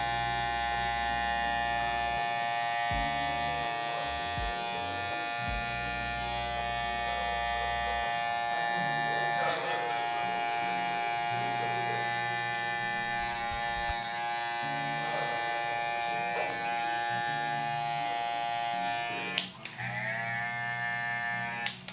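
Electric hair clippers buzz continuously at close range while fading 4C hair, a steady motor hum whose pitch shifts slightly as the blade works through the hair, with a brief dip near the end.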